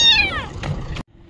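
A rain-soaked stray kitten gives one clear, high, drawn-out meow up close, followed by a short rougher cry, then quiet.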